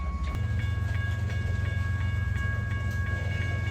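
A long freight train passes at a rail crossing beside the Mickelson Rail Trail in South Dakota, a steady loud low rumble with faint rhythmic clicking of railcars and a thin high squeal throughout.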